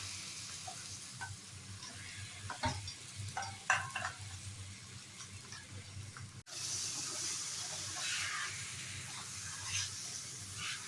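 Chicken pieces go into a pan with spices and fry with a continuous moderate sizzle and hiss. A few stirring scrapes and clatters come in the first half, and the hissing grows louder after a brief break.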